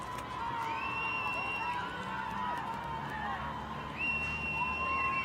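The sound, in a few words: Brazilian crowd cheering in the stands at a canoe sprint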